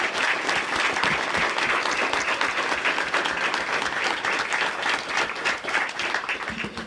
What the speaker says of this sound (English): if you could join me with a little round of applause